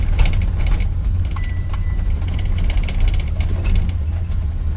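A UAZ on new tires creeps slowly over a potholed road, its low engine rumble steady and close, with loose items jangling and rattling in the cabin over the bumps.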